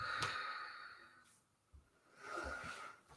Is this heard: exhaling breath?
yes